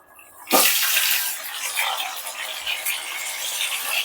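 Marinated chicken tipped into a biryani pot sets off a sudden loud, broad sizzling rush that stays steady and close for several seconds before easing slightly, with no voices.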